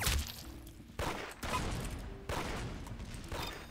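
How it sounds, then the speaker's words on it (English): Rockets firing in a Roblox Arsenal match: several loud bursts of launch and blast noise in quick succession, each a broad rushing roar that swells and fades, heard up close with no talking over them. "I hear rockets."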